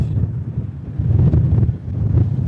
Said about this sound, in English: today it feels like the windiest point in Europe. You can feel that wind coming off the Atlantic.